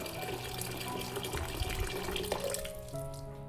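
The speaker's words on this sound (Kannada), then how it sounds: "ಇದಕ್ಕೆ ಅವರೆಕಾಳಿನ ತೇಲವಷ್ಟು ನೀರನ್ನು ಹಾಕೋಣ" Water poured over field beans (avarekalu) in a pressure cooker, a steady close splashing and gurgling stream that runs throughout and changes tone near the end as the level rises.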